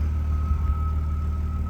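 1999 BMW Z3 2.8 with its big six-cylinder engine and twin exhausts, idling in a steady low, even hum with a faint constant whine on top, no talk.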